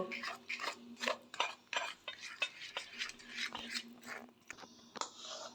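A utensil whisks a flour and water batter for patishapta in a bowl, with quick uneven scraping and clinking strokes close by, fairly quiet, broken by brief pauses.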